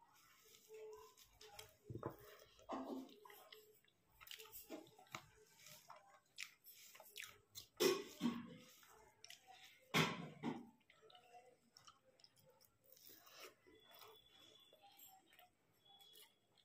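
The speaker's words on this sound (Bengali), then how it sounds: "আমরা তো খাচ্ছি খুব ভালো" Close, soft wet chewing and squishy bites come from people eating potato curry with boiled eggs, with irregular louder bites and smacks scattered over a quiet background.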